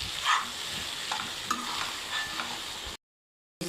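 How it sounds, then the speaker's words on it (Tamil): Pasta fries in a pan for an evening snack, giving a steady close sizzle with light scrapes of a spoon stirring it, then a sudden brief silence before the frying hiss returns. "நம்ம வந்து வச்சுருக்க பாஸ்தா அதையும் போட்டுக்கலாம். இதையும் ஒரு கலரிக்கலாம்."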